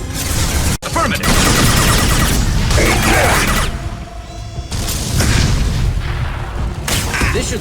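Loud, dense bursts of gunfire and explosive booms crowd a sci-fi shooter game's soundtrack, with one sharp gap and a brief quieter stretch before the barrage resumes, mixed with game sounds and voices.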